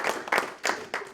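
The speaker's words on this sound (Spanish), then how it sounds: "Denle un aplauso al Señor." Church congregation clapping in short bursts, four quick swells of applause close together, fairly loud and with no talk over them.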